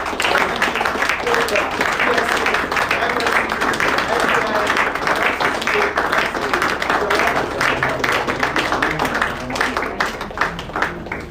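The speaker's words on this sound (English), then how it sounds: "with a standing ovation and with a loud round of applause, please help to welcome to this podium over president of the students, Dr. Omoyela" Sustained applause from a large seated audience at a formal professional assembly, many hands clapping steadily and densely for the whole stretch as the crowd rises to welcome a guest to the podium.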